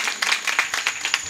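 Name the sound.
audience applause at a kirtan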